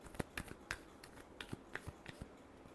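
Tarot cards being shuffled by hand, heard as a quiet, sparse run of soft taps and riffle clicks over a low background, with no talking.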